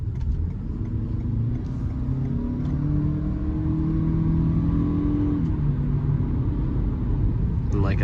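A 2024 Toyota Venza Nightshade hybrid accelerates from inside the cabin, a low steady rumble and whir with a gently rising engine tone held at a constant moderate level throughout.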